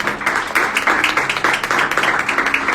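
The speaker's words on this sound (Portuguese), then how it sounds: "Você pode aplaudir ao Senhor?" A church congregation claps along during a sermon, producing rapid, rhythmic hand claps that come close and steady across the whole stretch, with faint voices beneath.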